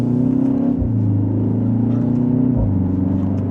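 A 2025 BMW X1 M35i idles and rolls through a tight turnaround, its engine holding a steady hum that briefly dips in pitch a couple of times, loud and close, without talking.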